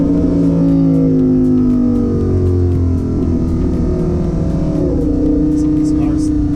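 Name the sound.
Lamborghini Huracan engine revving and accelerating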